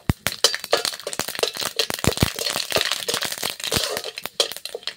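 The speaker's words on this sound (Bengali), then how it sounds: "দিয়ে দিচ্ছি কালো সরষে। একটু ভালো করে নাড়িয়ে নেব।" Black mustard seeds crackle and pop in hot oil with curry leaves while being stirred in a pan, a dense run of sharp, close clicks and spits with no talk.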